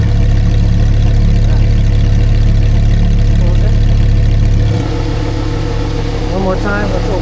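A Lamborghini engine idles with a loud, deep, steady rumble through an exhaust fitted with a valve controller; partway through the tone abruptly drops and turns quieter and smoother.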